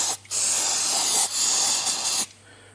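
Aerosol can of no-name brand brake cleaner sprayed onto a Massey Ferguson 20 tractor's front wheel bearing parts, two close, loud hissing bursts separated by a brief pause, with a steady low hum underneath.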